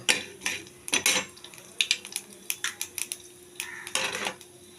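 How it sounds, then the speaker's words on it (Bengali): Black cumin seeds and a broken dried chili crackle in hot oil in a wok: close, sharp pops and clicks come in uneven bursts over a faint hiss, with no talking. "দেখুন কালো জিরাটা লঙ্কাটা একসাথে ফুটছে।"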